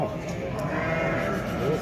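Goats bleat at a small-livestock market in Şarkışla, a brief bleat rising over the crowd noise and close, overlapping voices.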